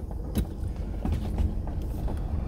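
A car rolls downhill on Ivy Knob Road, its engine a low steady rumble with faint rattles and light knocks inside the cabin.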